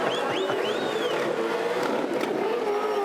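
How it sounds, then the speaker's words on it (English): A Supercars race car at the Pukekohe circuit in Auckland doing a tyre burnout, a loud sustained engine roar with rising revs and wavering tyre squeal, close and continuous. "He doesn't love a burnout, doesn't he?"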